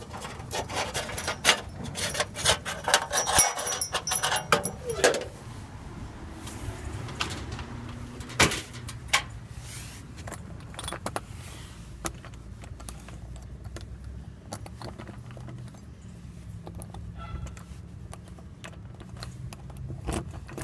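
Keys jangle and clatter in irregular bursts, busiest in the first few seconds and then sporadic, fairly quiet and close, with no talk over them.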